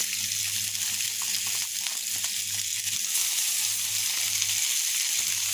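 Chopped onions fry in hot oil in a pan right after rohu fish was fried, giving a steady, close, loud sizzle that runs unbroken throughout with no talking.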